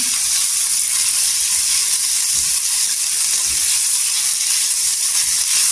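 A large onion, cut into big pieces, softening in oil with an even, constant sizzle and soft crackle up close, no voices over it.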